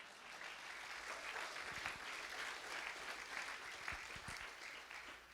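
A church congregation at a Sunday service breaks into sustained, dense applause that fills the room evenly for several seconds, with a few louder claps standing out near the front.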